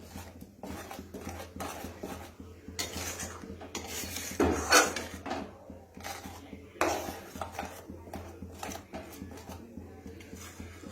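Coriander leaf chutney being stirred in a pan, with a spoon scraping and knocking against the metal in irregular strokes, fairly close and moderate in volume with one louder clatter partway through.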